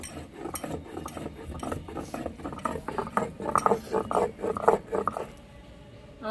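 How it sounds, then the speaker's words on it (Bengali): Cardamom being ground into a paste for a vegetarian cauliflower and potato curry, with rhythmic, close scraping and knocking strokes repeating for several seconds before stopping. "এলাচটা বাটা হয়ে গেছে এবার তুলে নেব"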